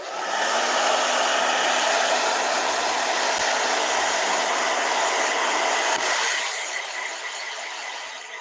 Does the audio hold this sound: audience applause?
no